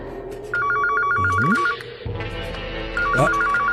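A telephone rings in two bursts of fast warbling electronic trills, loud and near, with a rising swoosh sound and background noise between the rings and no clear talk.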